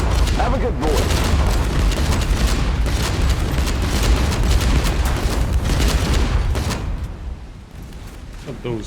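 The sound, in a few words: generator explosion on a ship in video game Age of Water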